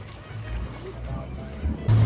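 Boat ride on a river at the Switzerland–Germany border, with a steady low engine rumble and water wash running beneath people talking, then a louder surge near the end.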